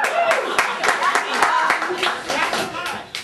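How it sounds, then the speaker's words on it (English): A comedy-show audience claps and cheers in a lively burst of sharp, overlapping hand claps that runs throughout, with voices mixed in. "Deserving of applause,"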